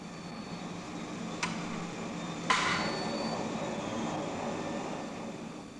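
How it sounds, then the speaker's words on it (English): A rolling mill cold-rolls a piece of aluminium: a steady low mechanical rumble and hum with two sharp metallic knocks, the second louder, followed by continued machine drone. "Now we'll cold roll a similar piece of the same aluminium."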